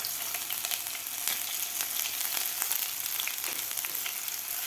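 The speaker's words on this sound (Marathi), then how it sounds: "अद्रक लसूणची पेस्ट सुद्धा आपल्याला थोडीशी परतून घ्यायची आहे" Ginger-garlic paste sizzles steadily in a hot pan while cooking paneer bhurji, a bright, even hiss with scattered small pops and spatters, close and continuous, with no voices.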